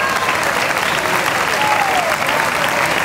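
Steady crowd applause at a Canarian wrestling tribute event in La Laguna, dense overlapping claps holding at an even, loud level throughout with a faint murmur of voices beneath.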